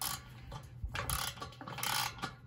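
A socket wrench ratchets in short clicking bursts while assembling an electric concrete mixer, several quick rasping strokes close by with brief pauses between them.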